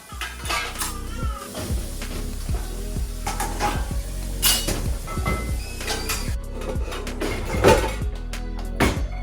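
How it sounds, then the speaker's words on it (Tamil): Dishes being washed and loaded into a dishwasher in a home kitchen in the USA, with repeated clinks and clatters of plates, pots and cutlery over running water, close and fairly loud throughout. "அதை எல்லாமே க்ளீன் பண்ணி வச்சிடலாம் அப்படின்னு சொல்லிட்டு எல்லாத்தையும் கழுவி டிஷ்வாஷரில் வச்சு அதை நல்லா காய விட்டுக்கிட்டேன்"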